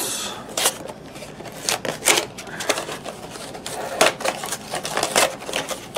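Foil wrapper of a sealed trading card pack for a Speed v Cunning Duel Deck being torn open up close, a run of crinkly tearing and rustling bursts with short pauses between pulls.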